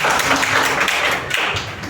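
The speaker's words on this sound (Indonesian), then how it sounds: "Tepuk tangan dong buat yang setuju." An audience at a school culture dissemination event gives a short, dense burst of applause, fairly close and continuous throughout.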